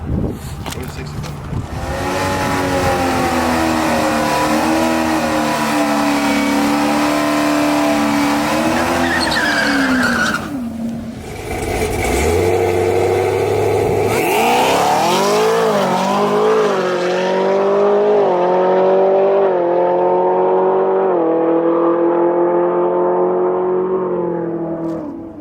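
Supercharged ZL1 Gen 6 Camaro at a drag strip roars hard through rising gear pulls. A brief break comes mid-run, then the revs climb again and fade toward the end, with voices in the background.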